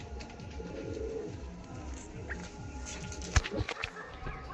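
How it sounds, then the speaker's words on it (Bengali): Pigeons at a pigeon sale in Dankuni, quiet cooing and fluttering nearby with a few wing claps and handling noises. "দেখুন পায়রাগুলো।"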